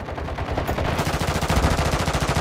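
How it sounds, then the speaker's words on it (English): Rapid automatic gunfire from a shooter video game hammers out continuously for the whole stretch. The bursts are loud, close and evenly pulsing, with no talking over them. "Who's shooting at you?"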